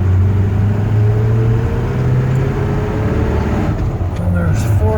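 A 1972 Chevy C-10 4x4 pickup with a four-speed gearbox drives along, its loud, steady low engine rumble shifting pitch as it moves up through the gears, heard from inside the cab.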